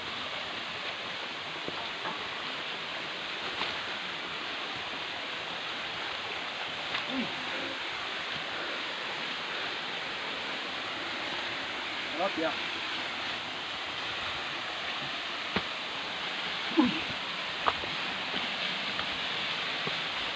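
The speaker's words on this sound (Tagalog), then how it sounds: "Ayun na po ang tinatawag na Madadamian Falls." Madadamian Falls in Echague, Isabela pours as a steady broadband rush of falling water, constant and moderately distant, with occasional faint voices and small knocks over the roar.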